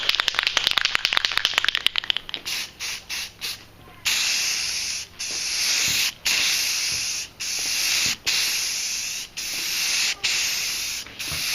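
Aerosol spray paint hisses out in a steady stream as a wet glossy coat goes onto a Magneto cosplay helmet. Rapid clicks come first, then long close bursts of spray broken by short pauses.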